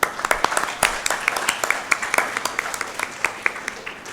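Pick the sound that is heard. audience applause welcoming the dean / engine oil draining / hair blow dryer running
audience applause welcoming the dean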